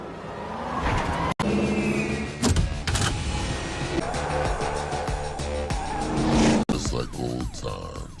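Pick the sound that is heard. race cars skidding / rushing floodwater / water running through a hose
race cars skidding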